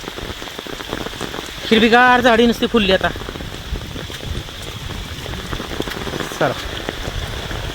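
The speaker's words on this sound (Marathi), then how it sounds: "आता पाऊस चालूच आहे." Heavy monsoon rain falling steadily outdoors at Mahabaleshwar, a loud continuous wash of drops on surfaces, while a person speaks briefly near the start over the downpour.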